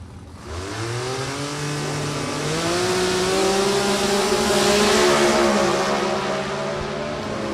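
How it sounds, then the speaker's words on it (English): Drag racing cars, including a six-cylinder Chevy Monza and a Super E modified, rev loudly and launch off the line, engine pitch climbing in rising sweeps before a sustained roar that fades slightly. "George Taylor, Ed Newton making some big-time RPMs off the line"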